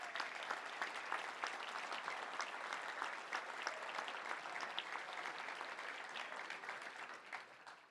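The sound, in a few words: standing round of applause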